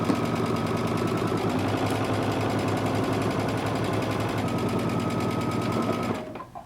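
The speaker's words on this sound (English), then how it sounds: "Starting at the bottom of our pant leg, we're going to sew 5/8 of an inch seam allowance." A sewing machine stitches a pant leg inseam in one continuous, rapid, rhythmic run close by, stopping abruptly at the end.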